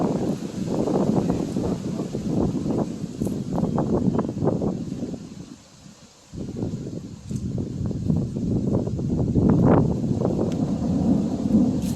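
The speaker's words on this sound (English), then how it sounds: "That was some lightning." Deep thunder rolls and rumbles almost continuously outdoors at an old cemetery in Dalton, Georgia, loud and close, with rain and wind noise underneath and a brief lull partway through.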